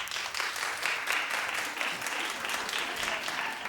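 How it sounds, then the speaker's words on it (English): Studio audience clapping on a daytime television talk show, a dense steady wash of applause from many hands, continuous and fairly even throughout. "clap if you think that's a good idea."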